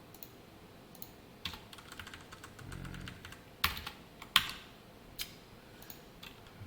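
Quiet typing on a computer keyboard while entering code, with irregular soft key clicks and a few sharper louder taps, no talk.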